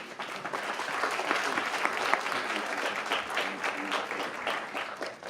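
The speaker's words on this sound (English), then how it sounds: "Another round of applause for her." An audience at a CollegeBound Awareness Month ceremony breaks into steady, sustained applause, a dense wash of clapping that holds at an even level for several seconds with no talk on top.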